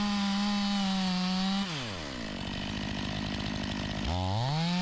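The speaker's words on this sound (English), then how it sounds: "The saw I'm using here is a Stihl MS500i. It's got a 56-inch bar on it here with a ripping chain" A Stihl MS500i chainsaw fitted with a 56-inch bar and ripping chain mills a honey locust log, its loud engine holding a high whine, then bogging down into a rough, labored growl as it bites the wood before revving back up.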